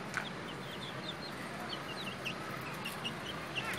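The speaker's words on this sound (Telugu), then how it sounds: "మా ఇంట్లో మా కోడి పిల్లలు పెంచుతున్నారండి, చూడండి ఎట్ట తిరుగుతున్నాయి" Young chicks clucking and chirping around a home yard, with several short high calls scattered over steady outdoor background noise and no talk.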